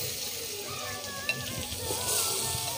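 Grated carrots frying in ghee in a pan for carrot halwa, a steady soft sizzle that stays even and fairly quiet, with faint stirring noises.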